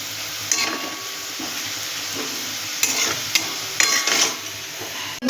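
Onions sizzle as they fry into crisp birista for a spiced meat dish, a steady hiss broken by a few sharp clanks of a spoon stirring against the pan.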